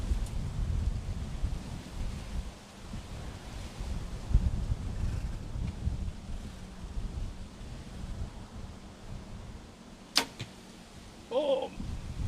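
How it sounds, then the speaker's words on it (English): Wind blowing outdoors at an archery range, a steady low rumble of gusts buffeting the microphone, with a sharp arrow release and thwack near the end. "Here comes the wind."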